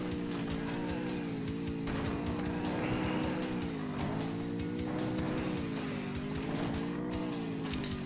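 Armored car with its turbo booster engaged in the game Earn to Die 2, a continuous droning engine whine that rises and falls in pitch, loud and steady with faint clatter over it.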